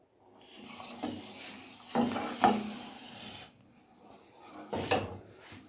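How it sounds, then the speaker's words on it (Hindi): Sugar is stirred into aloo bukhara (plum) chutney cooking in a pan, with scraping spoon strokes against the pot and a soft sizzle underneath, close and moderately loud, without speech. "2 से 3 मिनट अच्छी तरह इसको मिक्स करते रहेंगे जब तक चीनी मेल्ट हो जाए इसके अंदर"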